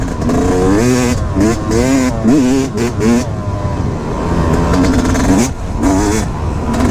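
A KTM 350 XCF four-stroke motocross motorcycle engine revs loudly and close, its pitch sweeping up and down in repeated throttle blips before it settles into a sustained, rough roar.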